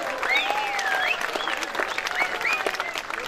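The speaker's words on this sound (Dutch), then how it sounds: "geven een applaus dat heel Deventer het kan horen" A festival audience in Deventer applauds after a performance at Festival Old Deventer, with sustained clapping mixed with whistles and whoops from the crowd throughout.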